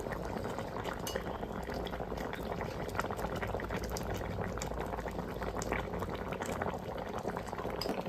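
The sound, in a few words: fish curry boiling in a covered pot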